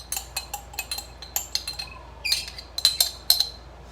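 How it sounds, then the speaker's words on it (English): A spoon stirs chopped onions, minced garlic and potatoes together in a bowl, making a steady series of sharp, close clinks and scrapes against the bowl with short quiet gaps between them. "we're gonna mix them together with our potatoes"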